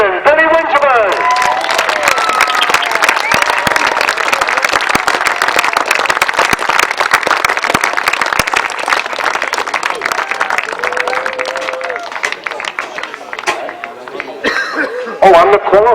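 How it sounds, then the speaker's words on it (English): Sustained crowd applause for a grasstrack motorcycle racing champion at the International Lincolnshire Poacher meeting, steady dense clapping with chatter, chuckles and a cough mixed in, and a voice speaking over it near the start and end. "Big round of applause, please."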